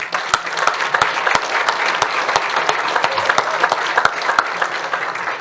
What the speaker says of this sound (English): So big round of applause to Nicole.